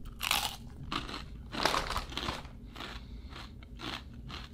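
Close, crisp crunching of pork cracklings with a thicker fat layer, several loud brittle bites followed by softer chewing, no talking.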